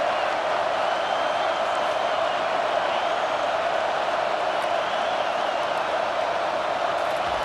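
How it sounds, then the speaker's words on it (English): A football stadium crowd at a Clemson versus Michigan game roars steadily on third down, a dense, sustained wall of noise with no breaks, loud and continuous throughout. "Decibels rising as the crowd gets behind this defense on 3rd down"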